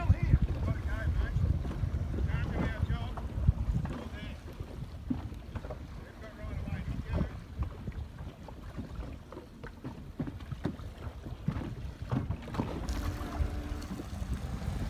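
A motorboat engine drones steadily on open water, with wind buffeting the microphone throughout.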